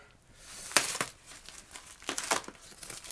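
A heavy 30-pound shipping box is cut open, with crinkling, tearing cardboard and tape in several loud, uneven bursts close by, with no talk.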